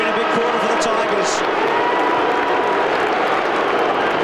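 Dense crowd roar from a packed stadium at a 1997 Australian Rules football match between Collingwood and Richmond, a steady loud wash of cheering and shouting throughout with a few brief whistles above it.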